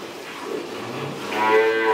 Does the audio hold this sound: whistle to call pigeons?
no